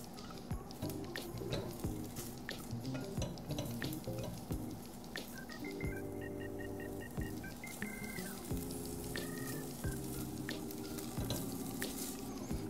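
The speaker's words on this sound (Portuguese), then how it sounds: "É exatamente esse bacon soltando, liberando a sua gordura." Bacon rendering its fat in a cooking pan gives off a quiet, steady sizzle with soft crackles and pops, while faint background music plays underneath and nobody speaks.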